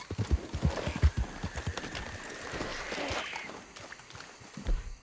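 Horse hooves clip-clop in the video game Red Dead Redemption 2, a quick rhythmic series of close hoof strikes that fades into a softer steady ride, with a faint whinny-like tone in the middle.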